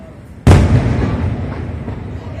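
One loud firework bursts close by in a small corner of Taiwan, a sharp booming blast followed by a long rumbling, crackling decay.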